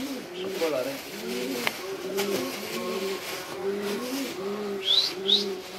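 Pigeons at a spectacular-pigeon club show in Petra, 2014, coo in repeated low, rolling phrases close by on a foggy day, with a couple of brief higher chirps near the end.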